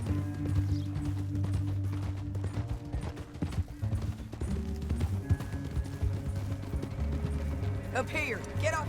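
Horse hooves clip-clop in an uneven rhythm under background music and ambient noise in the video game Red Dead Redemption 2, with a brief whinny-like sound near the end.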